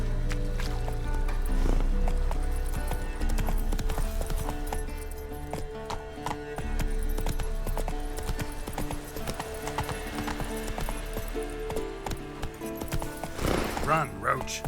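Roach, a horse in The Witcher 3: Wild Hunt, gallops with a steady rapid clip-clop of hooves that runs throughout, with a brief whinny-like burst near the end and a voice talking over it.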